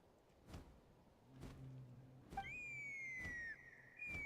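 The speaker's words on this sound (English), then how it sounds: "That sounded like a whistle." A whistle in the Natlan region of the video game Genshin Impact, heard as a faint rising tone that then holds steady, over quiet background sounds and low thumps, without talk.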